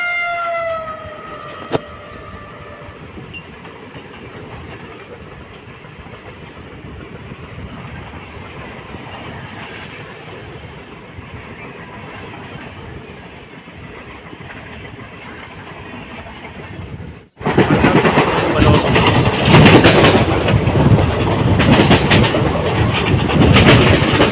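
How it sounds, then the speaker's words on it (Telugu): A train rumbles past near Visakhapatnam station, with a distant horn-like tone early on, then a sudden loud, sustained roar and rattle of wagons as it passes close by. "ఆ పక్క నుంచి ఏదో ట్రైన్ వస్తుంది"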